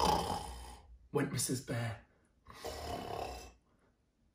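A voice imitates a bear snoring in a bedtime story, giving two drawn-out, rasping snore sounds separated by a pause, near and clear, after a few spoken words.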